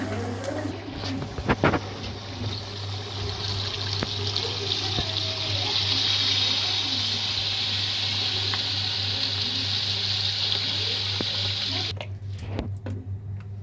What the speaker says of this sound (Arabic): هنسقيهم بقى، هننزل عليهم بقى ايه الميه بتاعتهم